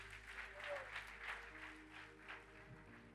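A church congregation applauds for the Lord during a worship service, a steady wash of clapping hands lasting throughout, moderately loud with a faint hum of instruments beneath.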